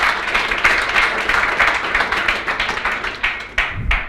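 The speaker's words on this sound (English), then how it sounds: "Big round of applause, please." An audience at a technical conference applauds after a talk, brisk clapping that thins toward the end with individual claps standing out.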